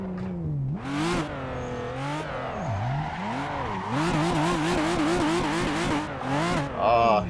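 2JZ-swapped FR-S/BRZ/86 revving hard, the rising engine note climbing repeatedly and then bouncing rapidly off the rev limiter, close and loud, with no talk.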